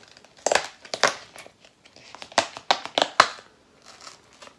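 Cardboard advent calendar window being torn open by hand, a series of sharp crinkling and crushing bursts in irregular clusters, close and fairly quiet, with no talking.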